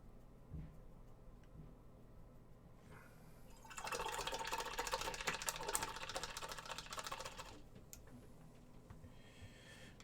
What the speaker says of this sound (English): Sophie, whose hairdryer did you pinch, Chris?